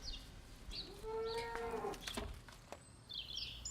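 A cow and calf moo on a farm, giving a drawn-out low call close by, with faint bird chirps in the background and no voices.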